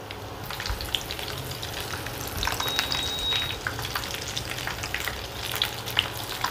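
Prawn and vetki fish wraps deep-fry in a pan of hot oil, giving a steady close sizzle with scattered pops and crackles and a few louder bursts, with no one talking.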